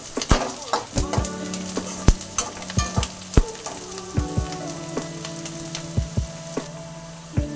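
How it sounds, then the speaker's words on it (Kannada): Green chillies and curry leaves fry in hot oil while being stirred, with a steady close sizzle broken by repeated sharp clinks and scrapes of the spoon against the pan. "ನೆಕ್ಸ್ಟ್ ಮೂರಿಂದ ನಾಲ್ಕು ಮೆಣಸಿನ್ಕಾಯಿ ಸ್ವಲ್ಪ ಕರಿಬೇವು ನೀಟಾಗಿ ತಿರ್ಸ್ಕೊಳ್ಳಿ"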